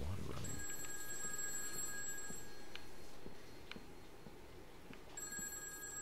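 A telephone rings in the horror video game Those Who Remain, its electronic bell repeating steadily at moderate distance over low background noise, with a pause between rings.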